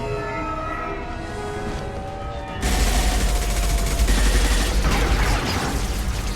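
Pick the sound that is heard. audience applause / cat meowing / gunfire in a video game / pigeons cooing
gunfire in a video game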